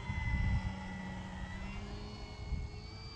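An upgraded Arrows Husky RC plane with a heavy motor drones overhead in steady flight, a continuous whining buzz with a slight rise and fall in pitch as it passes at moderate distance.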